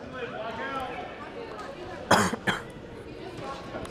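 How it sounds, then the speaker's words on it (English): Two quick, sharp coughs break through quiet background chatter at a girls' high school basketball game, close and loud against the murmur. "Excuse my coughing. Throat's a bit dry tonight."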